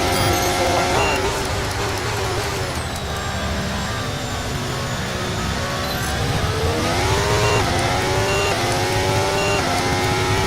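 Formula 1 race car engine in the F1 23 racing game, driving on full wet tires: continuous high-revving whine with pitch sweeps rising and falling through gear changes and braking, loud and dense throughout.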